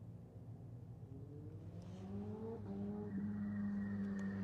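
A turbocharged car climbs the Stelvio Pass, its engine note rising steadily in pitch and volume as it approaches from a moderate distance, fairly quiet overall, with no voices.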